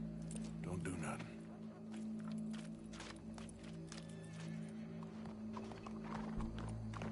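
Rhythmic clip-clop of horse hooves on hard ground in the video game Red Dead Redemption 2, with the odd snort, set against steady background hum and indistinct voices.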